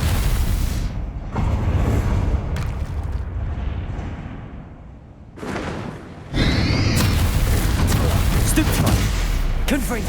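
Confringo explosive spell cast in Hogwarts Legacy combat: repeated loud booming blasts and crackling bursts, with a dip in the middle before the impacts surge again amid the chaotic fight noise.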